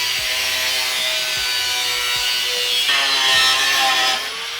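A cutoff wheel grinds through a car's radiator support, a harsh, loud, continuous cut that rises in pitch partway through and then eases off near the end.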